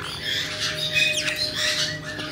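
A pet bird squawks up close in a series of harsh, raspy calls with a few shrill squeaky sweeps in between, loud and alone against a quiet indoor hum.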